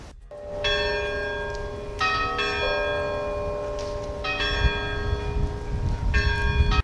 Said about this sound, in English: You can hear all the bells, just ding dong.